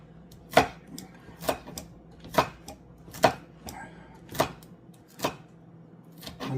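A knife chops garlic and onions on a cutting board in a home kitchen, landing seven or eight sharp, evenly spaced strokes about a second apart, close and distinct against a quiet background with no talking.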